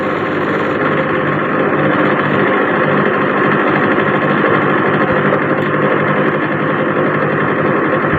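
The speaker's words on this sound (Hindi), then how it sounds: "अब हम इसको कर लेंगे ब्लेंड।" A blender whirs at high speed blending peach juice, a loud, dense, continuous motor roar that holds steady throughout without any pause.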